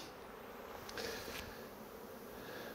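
Honeybees buzz around a beehive in late autumn, a faint, continuous hum with a few louder passes as individual bees fly close by.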